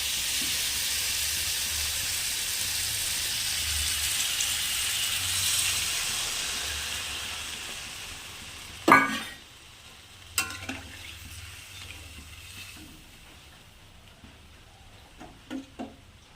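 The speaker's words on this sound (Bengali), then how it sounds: "কালো জিরা আর কাঁচা লঙ্কা সোমবার দিছি আর রসুন দিয়ে হলুদ লবণ দিয়ে একটু কষাইলাম" Garlic, black cumin, green chilli, turmeric and salt are sautéed for a pumpkin curry. A steady, close hiss of frying fills the first half, then gives way to quieter scattered stirring knocks and clatters.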